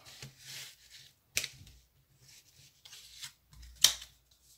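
A deck of tarot cards being cut by hand, soft papery rubs and slides with a few sharp snapping taps of cards landing, close and quiet.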